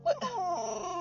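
A dog whimpers up close in one drawn-out, high, whiny cry that wavers and trails off, heard indoors.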